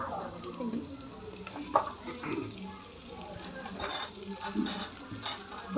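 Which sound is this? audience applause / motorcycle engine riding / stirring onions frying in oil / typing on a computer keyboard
stirring onions frying in oil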